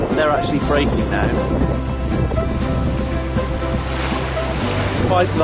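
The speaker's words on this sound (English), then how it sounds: "Quite large, knobbly, breaking waves going on." Quite large, knobbly ocean waves break around a sailboat off the Atlantic Portuguese coast, with a constant loud roar of surf and wind buffeting the microphone and muffled voices underneath.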